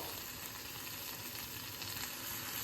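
Dry onions and whole garam masala landing in a hot pressure cooker with no oil, giving a steady, close, even sizzling hiss that stays constant throughout with no talking.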